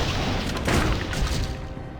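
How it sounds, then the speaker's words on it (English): Explosions from a blast cannon and landmines in Torchlight II roll together in a dense, loud series of booming blasts that churn continuously without a break. "Blast cannon to soften them up, and then bring on the boom."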